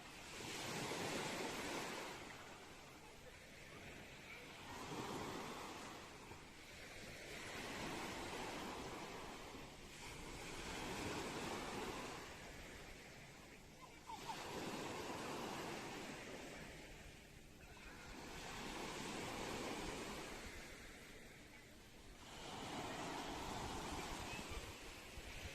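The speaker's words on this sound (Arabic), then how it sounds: "اليوم جينا للبحر ان شاء الله باش نتبحروا شويه." Sea waves break repeatedly on a crowded beach, each swell rising into a broad wash of surf and then fading in a slow, steady rhythm, with wind noise and no talk.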